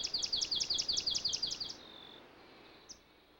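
A swamp sparrow sings a fast, even trill of about a dozen clear repeated notes, then stops, leaving quiet background with one faint chirp.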